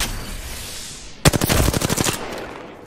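Automatic weapon fire from Apex Legends bursts in suddenly after a quiet stretch, a rapid run of about a dozen sharp close shots over roughly a second, then trails off into a faint game ambience.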